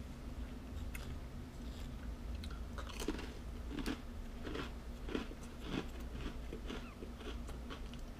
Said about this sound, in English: Let's bite into a whole cookie.